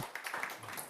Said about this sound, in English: we have some applause for Philipp.